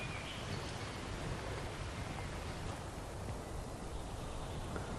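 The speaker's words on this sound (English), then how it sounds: "In fact, it's just starting to rain." Rain begins falling in a garden, a steady, even hiss of drops spread across a broad wash of noise, constant and moderately close with no voices.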